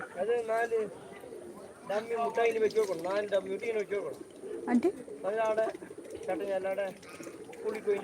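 Domestic pigeons on a small home farm coo in low, soft hums, mixed in with people talking nearby throughout.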